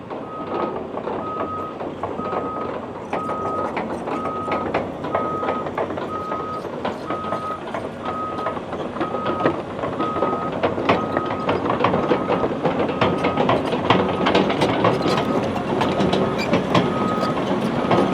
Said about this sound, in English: load the dump truck with the first load of pay dirt for the wash plant